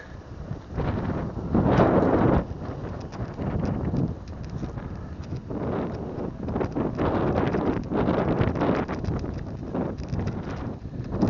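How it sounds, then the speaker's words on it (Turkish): Strong wind gusts buffet the microphone outdoors on a stormy weekend at a goat farm, a loud, rough rushing that swells and eases throughout with no pauses. "Biraz sakinledi yine rüzgar. Ben geldiğimde daha berbattı."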